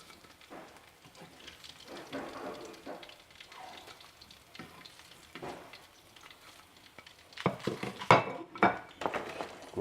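Coconut chicken goujons are set out on a plate and rested on a towel, with soft clinks and handling noises over a steady sizzle of frying oil. The clatter grows louder toward the end.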